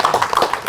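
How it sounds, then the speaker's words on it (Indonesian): An audience at a Samira Travel umrah promotional event claps; quick, distinct hand claps land in an uneven rhythm, close and clear for a brief burst. "Tepuk tangan sekali lagi untuk Samira Travel"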